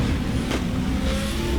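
Group 5 classic race car engine in RaceRoom, a steady, loud, low roar held throughout with a brief surge partway, no talking.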